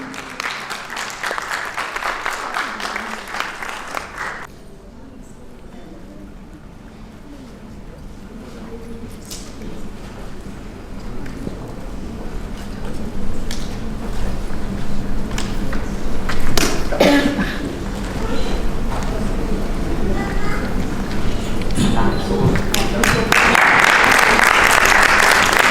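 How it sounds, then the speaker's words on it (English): An audience at a felicitation event claps in sustained applause, a dense wash of hand claps that swells toward the end, mixed with some crowd noise. "A round of applause for them."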